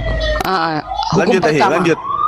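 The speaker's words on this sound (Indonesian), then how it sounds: "Itu ambulan mau bawa Bang, betul Bang?" An ambulance siren wails loud and close, its rising and falling tone mixed with people talking over it.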